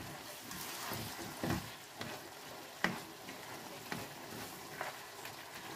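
Chicken gizzard bopis fries in a pan with soy sauce, a soft steady sizzle broken by several scraping stirs and clinks, faint and close.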